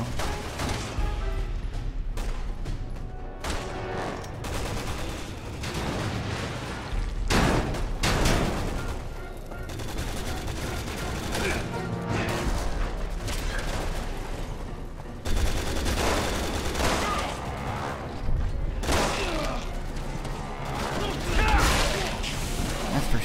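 Rapid bursts of gunfire from the Resident Evil 6 video game, Jake and Sherry chapter boss fight with a giant B.O.W., loud and continuous with a dense soundtrack and repeated heavy impacts, with a voice talking over it.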